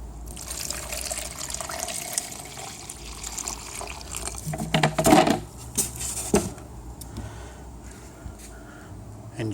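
Recovered flush water from a prototype air-powered toilet's catch basin is poured back into a quart container, a close trickling and splashing pour that builds into a louder gush midway before tapering off to quiet dribbles.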